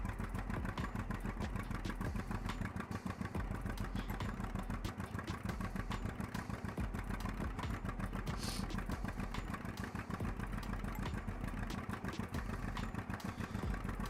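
A vintage tractor engine runs at a steady idle nearby, a rapid even chugging pulse with light mechanical clatter and no one speaking.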